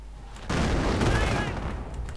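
A 6-pounder anti-tank gun fires in a World War II strategy game, one heavy boom breaking in suddenly and rolling into a dense rumbling blast that fades slowly.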